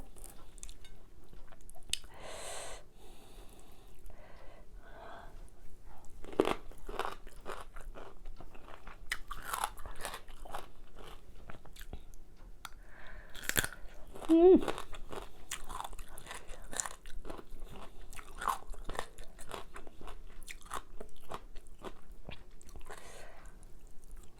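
Crunchy biting and chewing of home-grown vegetables, scattered sharp crunches and soft mastication sounds repeating across the stretch, fairly close and quiet with no talking.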